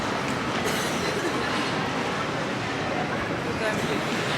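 Train noise at London Liverpool Street station, a steady broadband rumble of rail transport with possible wheel noise, continuous and fairly loud throughout with voices mixed in.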